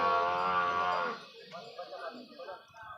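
A water buffalo at a livestock market gives a loud, drawn-out moo lasting about a second, followed by quieter background chatter of people talking.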